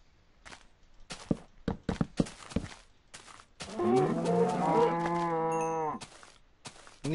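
A Minecraft cow moos in one long, loud, drawn-out call in the middle, following several short clicks and knocks from in-game block placing.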